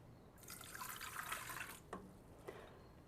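Warm water pours into a stand mixer bowl holding yeast and sugar, a steady splashing stream for about a second and a half, then a few scattered drips and small splashes, close and fairly quiet with no talk.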